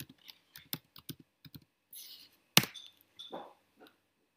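Someone types on a computer keyboard into a Google search: a string of quick, close keystrokes in short uneven runs, with one sharper clack midway and a few softer taps near the end. No one speaks.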